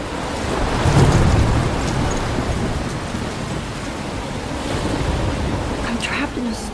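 A storm in the game Life Is Strange: a dense, steady roar of wind, rain and crashing waves that swells slightly and then holds, with no voices.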